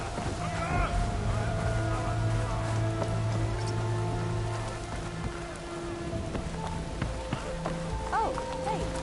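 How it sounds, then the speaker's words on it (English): Rainfall begins in the Horizon Forbidden West video game, a steady hiss of rain on surfaces alongside a low ambient drone and game music, with occasional clip-clop of hooves and a voice speaking briefly. "It's starting to rain."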